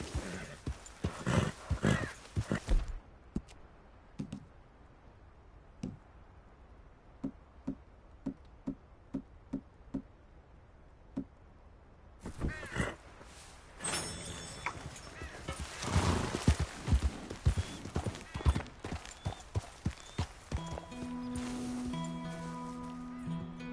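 Horse hooves in Red Dead Redemption 2: clear clip-clop footfalls in irregular bursts, now close and busy, now sparse and soft, with snorts and whinnies, rustling in between and music rising near the end.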